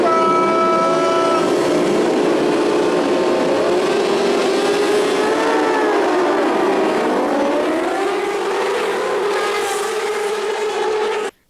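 Racing motorcycles start an Alpe Adria race, their engines rising together into a loud sustained multi-toned howl that swells and shifts in pitch before cutting off abruptly, with no talking.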